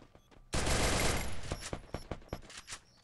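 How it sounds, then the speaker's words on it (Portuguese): Gunshots aimed at an enemy in the game Free Fire start abruptly as a loud, dense burst of rapid fire, then break into scattered separate shots and clicks, close and with no voices. "Atirei uns tirinhos nele já"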